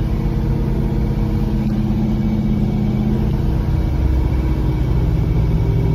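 A car engine held at half throttle, running rough and struggling, a loud, steady, low, droning roar close to the listener with no talk over it.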